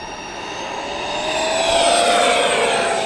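An F-16 Falcon 80mm electric ducted fan RC jet flies past with a loud, steady high-pitched whine that swells and sustains as it passes close overhead, with no talking.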